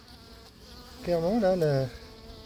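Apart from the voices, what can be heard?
bees buzzing while attacking a wasp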